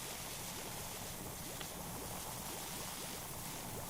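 A pressure washer sprays in the video game PowerWash Simulator 2, a continuous, fairly quiet rushing hiss of water that holds steady without pause and with no voices.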